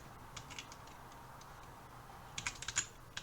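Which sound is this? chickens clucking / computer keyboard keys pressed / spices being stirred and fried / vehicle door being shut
computer keyboard keys pressed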